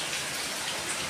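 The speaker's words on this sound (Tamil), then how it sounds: "அப்போ மழை பெய்யுது" Hail and rain pour down in a dense, steady hiss, loud and close, with no voices over the short burst.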